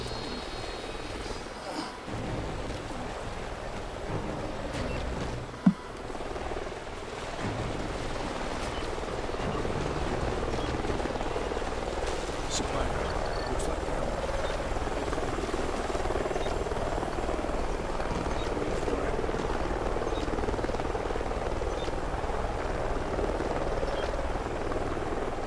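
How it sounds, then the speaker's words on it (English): A military helicopter in the Call of Duty: Ghosts video game, its rotor and engine a low, continuous rumble somewhere ahead that holds steady beneath game ambience, with a sharp click near the start. "Sounds like a chopper's up ahead of us."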